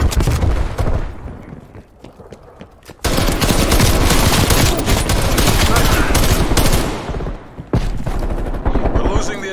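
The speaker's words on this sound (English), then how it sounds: "Sending frag grenade. Frag out." Dense, continuous gunfire and explosive bursts in a Black Ops Cold War multiplayer match as a frag grenade is thrown, loud and sustained with brief drops and a sharp break near the end.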